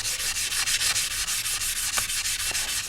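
Sandpaper rubbing over a motorcycle sprocket to polish it, heard as a quick, regular series of close, loud scratchy strokes with no talk.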